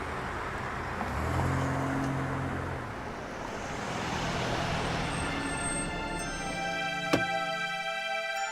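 A car engine idles and rumbles steadily at moderate distance as a vehicle is readied for departure, with broadband road noise throughout and a brief sharp knock near the end.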